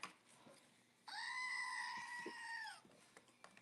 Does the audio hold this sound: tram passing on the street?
no